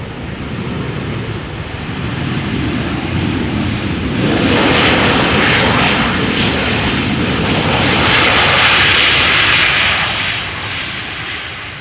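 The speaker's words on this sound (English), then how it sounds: "PHBVA, the 777." A Boeing 777, PH-BVA, lands at Amsterdam Schiphol Airport, its loud engine roar swelling as it passes close and then holding in a broad rushing wash, with no voices.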